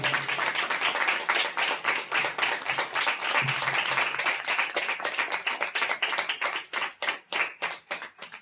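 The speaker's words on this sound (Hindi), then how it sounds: "आइए यीशु मसीह के नाम से जोर से ताली मारें।" Church congregation applauding during a Palm Sunday sermon, with loud sustained clapping from many hands that thins toward the end into separate, sharper claps.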